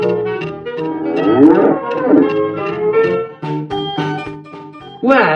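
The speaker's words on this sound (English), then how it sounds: "Yak." A yak gives a series of low, drawn-out grunting moos, loud and close, with several calls in a row and no talk over them.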